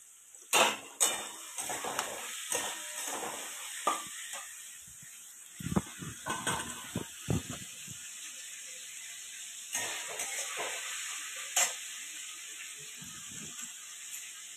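Potatoes fry in hot oil in a kadai for Bengali chow mein, giving a steady high sizzle broken by sharp metallic clanks and scrapes of a utensil against the pan.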